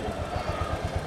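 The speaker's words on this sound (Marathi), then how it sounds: "अरे पहिला इंजिनचा आवाज तर थांबू दे" An engine running with a low, fast rhythmic thumping pulse, steady and fairly close, and nothing else standing out.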